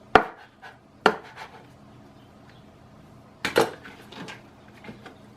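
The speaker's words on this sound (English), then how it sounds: "Then I just chop it up a little bit more." A knife strikes a cutting board as tomatoes are chopped for bruschetta: a few sharp, close chops spaced unevenly, with softer knocks trailing between them.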